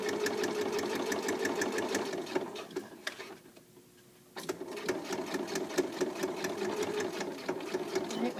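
A sewing machine runs a straight seam with a fast, even stitching clatter up close, then pauses briefly midway and starts again at the same steady pace.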